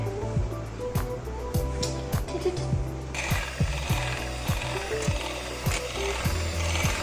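An electric beater whips cream in a bowl at close range, a steady mechanical whir with regular rattling ticks that grows brighter and noisier partway through; no one talks.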